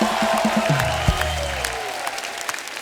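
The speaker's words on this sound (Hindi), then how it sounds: "जोरदार तालियां हो जाएं सुधा जी के लिए" Studio audience applause on a comedy talk show, a steady crowd clapping under a prominent musical sting and a low tonal swell that fade partway through, leaving the clapping to carry on alone.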